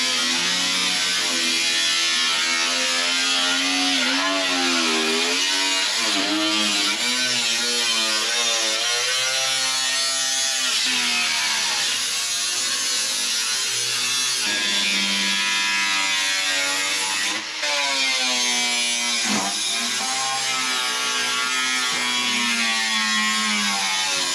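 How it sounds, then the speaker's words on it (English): A power drill drills out bolts on a Jeep TJ, whining steadily for the whole stretch, its motor pitch rising and falling as it bites and eases off, loud and close with no talking. "We will just drill those out and put those together."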